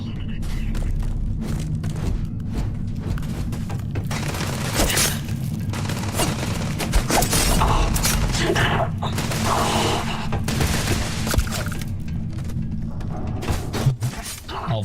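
Gunfire rings out in Starfield in the city of Neon: sustained volleys of shots mixed with heavy booms and thuds run continuously, with a voice talking over much of it.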